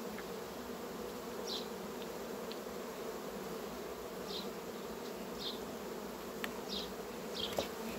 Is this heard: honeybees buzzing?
yes